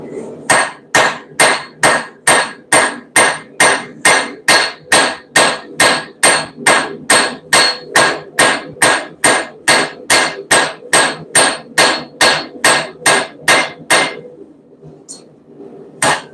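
A hammer strikes repeatedly in a steady, close, ringing rhythm of about two blows per second for roughly fourteen seconds, then stops after a final isolated hit.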